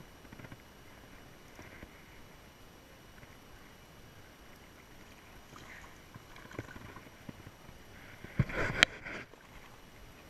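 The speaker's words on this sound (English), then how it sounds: "Came through a good set of rapids and paddled back up into a pool." A canoe paddles through river water on the New River in Pembroke, Virginia, with soft, faint splashes and swishes over steady flowing water, ending in a louder splashing stroke.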